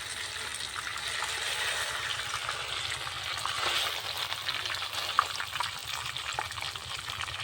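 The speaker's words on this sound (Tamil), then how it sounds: "இன்னும் இப்படி கொதிக்குது, ஃபர்ஸ்ட் டைம் இந்த மாதிரி கொதிச்சு நான் பார்க்குறேன்." Hot oil bubbles and sizzles steadily while a homemade mixture snack fries, a close, even crackle with faint pops and no voices.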